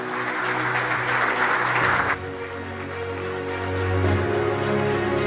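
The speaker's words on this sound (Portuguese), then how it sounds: "peço o seu aplauso, por favor, para a Catarina Craveiro" A conference audience applauds as a speaker is called to the stage, a steady, moderate wash of clapping mixed with music that softens slightly partway through.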